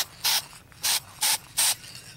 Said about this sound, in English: give this another spray, light spray of the looking glass paint